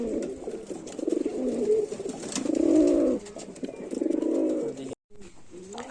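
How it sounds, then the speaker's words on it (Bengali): Giribaz pigeons of the fulshira (flower-headed) type coo in low, rolling phrases, several overlapping calls rising and falling close by, with faint background noise and a brief drop-out near the end. "তোমার ফুলশিরা পায়রা, ফুলশিরা গিরিবাজ পায়রা ধরে নিয়েছে।"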